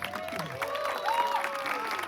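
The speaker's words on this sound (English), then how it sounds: "they deserve a big round of applause" Audience applause at the Sai Mela 2024 event, steady clapping with crowd noise under a sustained musical tone.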